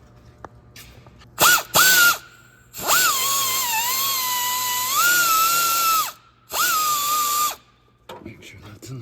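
Power tool tightening hose clamps on the coolant pipes of a 2010 Ford Focus, heard as a short double whir, then longer sustained whining runs, close and loud in a quiet garage.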